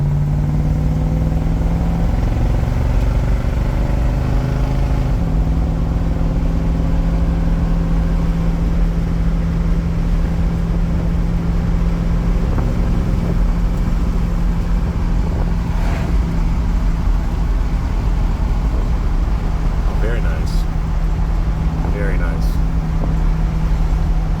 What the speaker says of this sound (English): I heard the tire spin just a little bit.